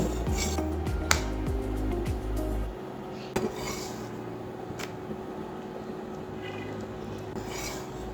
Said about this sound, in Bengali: এখন আমি রুটিগুলোকে ভেজে নেব বেশি ভাজবো না এপাশ ওপাশ করে হালকা করে ভেজে নেব